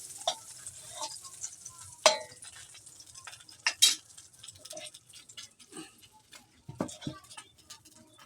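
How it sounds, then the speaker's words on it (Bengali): Fish fries in a pan with a soft, steady sizzle, punctuated by sharp scrapes and clinks of a utensil stirring and turning the pieces, close up and fairly quiet, with no talking. "অল্প করে ভাজে নিব"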